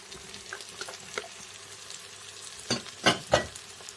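Lamb and carrots sizzle softly in the pot of a pressure cooker with a low, steady crackle. A few louder scraping clatters of stirring come near the end.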